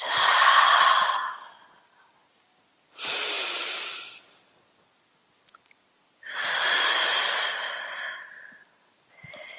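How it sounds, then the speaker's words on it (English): Three long, airy exhalations during a stretch and flow class, each a loud close breath out separated by quiet pauses, with no talking over them. "breathing out."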